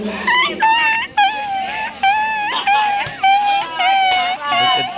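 A voice imitates a puppy, making a string of high, whiny whimpers in quick succession, close to the listener and fairly loud.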